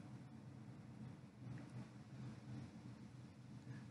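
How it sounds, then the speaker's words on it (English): A thunderstorm rumbles outside, with low, continuous distant thunder and possible rain heard faintly and steadily throughout, with no talk. "Sounds like a storm out there."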